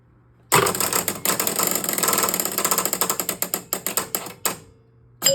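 An electromechanical pinball machine clatters loudly as its out-lane spinner whirls, a dense rattle of relays and gears that slows into distinct rhythmic pulses before stopping, then a final clack.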